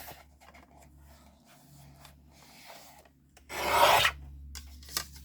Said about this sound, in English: Trim it here, and then we are going to cut this part off.